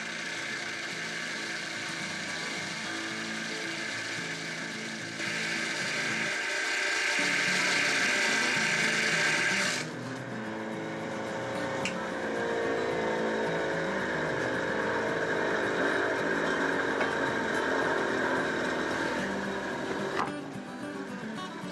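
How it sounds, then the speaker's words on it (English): Dry grinding of a Brazilian rainbow agate marble, a steady abrasive rasp that runs through the whole stretch, growing louder and brighter midway, with occasional sharp clicks and no talking. "So as I grind on this, because I'm grinding it dry, the marble has a tendency to heat up"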